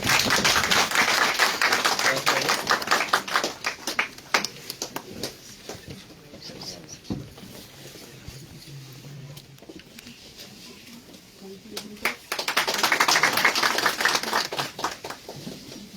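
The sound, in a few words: audience applause at a farewell party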